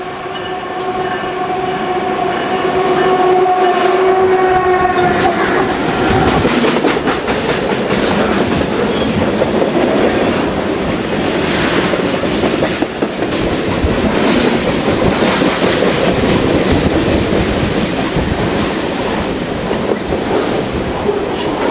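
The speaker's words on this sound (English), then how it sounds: "we catch BRC-bound freight traffic on the move east" A BNSF freight train heading east toward the Belt Railway of Chicago rolls past loudly and continuously, its horn sounding early before giving way to a sustained rumble and clickety-clack of wagons passing close by.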